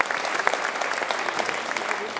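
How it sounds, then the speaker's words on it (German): A crowd at a Christmas party with a satirical comedy performance claps steadily and vigorously, a dense continuous wash of hands throughout the short stretch. "Der Applaus war frenetisch"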